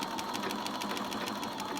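Sewing machine running steadily and fast with a rapid, even needle rhythm while top stitching a beret seam, close and continuous with no talk.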